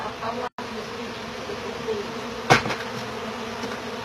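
Honey bees from a soffit colony swarm during a live removal, a steady dense buzzing hum filling the whole stretch, with a brief dropout and one sharp knock partway through.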